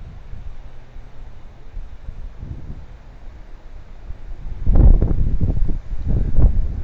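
Steady wind buffeting the microphone outdoors on a fishing trip, a low continuous rumble with stronger gusts toward the end.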